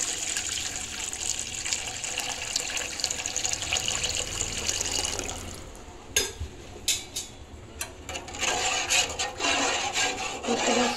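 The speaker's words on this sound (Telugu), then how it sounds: "6 గ్లాస్ వాటర్ పోస్తున్నా." Water is poured steadily into a pot for a village-style veg biryani, a continuous splashing rush for the first five seconds, then uneven splashes and sloshing bursts, with no talk.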